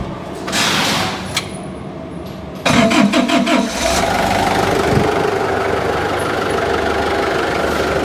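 A car engine cranks and fires up with a cooling system pressure tester attached during a head gasket check in a workshop, then settles into a loud, steady idle close by.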